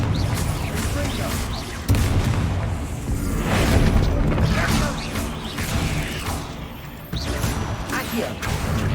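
In Hogwarts Legacy, Confringo fire spells blast inside a tomb, giving heavy booms and crashing impacts with swooshes at several points, under continuous talk.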